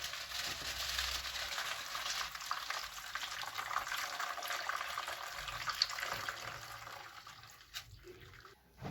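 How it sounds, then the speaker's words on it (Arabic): Hot water is poured into a baking tray for homemade yogurt, a steady splashing and hissing pour close by that tapers off near the end, without speech. "الميه سخنت وهصبها في الصينيه بتاعتنا"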